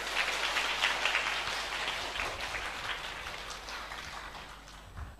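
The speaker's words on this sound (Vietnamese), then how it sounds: "cho một tràng vỗ tay." Steady applause from an audience at a Buddhist dharma talk in Vietnam, continuous and fairly dense throughout, before a song about mothers begins.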